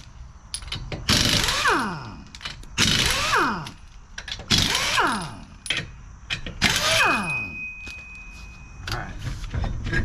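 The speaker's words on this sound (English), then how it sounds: "Gonna go ahead and use the impact to get these lug nuts off." Pneumatic impact wrench spinning 21 mm lug nuts off a Ford Transit front wheel, firing in four loud separate bursts with whining spin-downs between them, over a quieter garage background.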